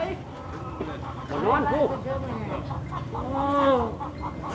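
Chickens cluck at a rural Thai home, with several short, rising bird calls standing out loud and near among the surrounding voices and background noise.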